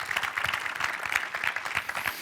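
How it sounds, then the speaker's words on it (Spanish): Audience applause closing a conference talk on industrial control system security, dense steady clapping from a room of listeners, moderately loud and continuous with no talk over it. "Un aplauso, por favor."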